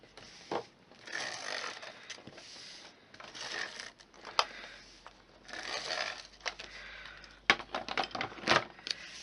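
A tape runner lays adhesive across the back of a paper card, giving a series of short, close, dry clicking and ripping bursts with pauses between.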